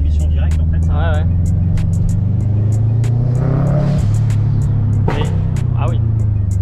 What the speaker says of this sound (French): le son de la dump et tout, qui relâche, c'est agréable